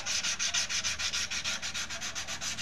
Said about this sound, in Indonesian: kita gosok ya menggunakan kertas amplas seperti remnya agar hilang bagian pasir-pasir yang melekat